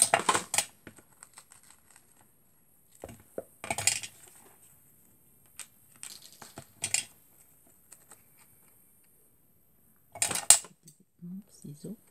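Scissors snip through craft materials like wooden beads and foam sheet in short, crisp bursts of cutting and rustling, spaced out by quiet pauses, close and fairly soft.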